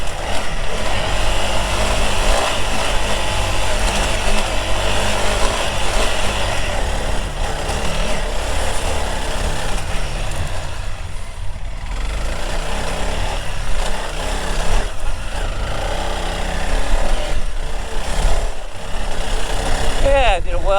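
Engine of a 2021 Honda CRF300 Rally motorcycle pulling up a hill in third gear, a steady loud drone throughout with wind buffeting, while a rider talks over it.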